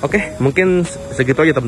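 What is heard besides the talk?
No everyday noises stand out.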